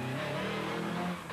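A high-revving Honda rally car at the 2003 Donegal Harvest Rally holds a loud, steady engine scream close by, then fades slightly at the end, with no talk.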